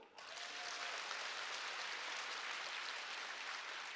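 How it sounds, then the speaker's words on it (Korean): An audience applauds at a network marketing company's recognition event, a dense, even patter of many hands clapping, heard from a distance and fairly faint, with no break for the whole stretch. "박수."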